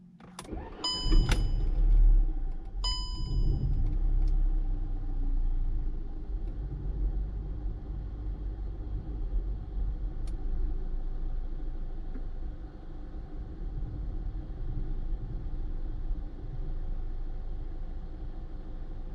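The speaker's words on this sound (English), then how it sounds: "Next I'm going to start the engine." A Skoda Superb 1.8 TSI petrol engine cranks with a few warning chimes and catches, then settles into a steady, even idle. The rumble is close and continuous for the rest of the clip, and no one speaks.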